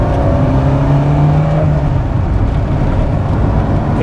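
A 1977 Mk1 VW Golf GTI runs along in top gear, its engine buzzing at a steady drone close up from inside the car, with a faint rising whine in the first half.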